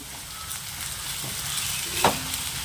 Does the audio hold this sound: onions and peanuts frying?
yes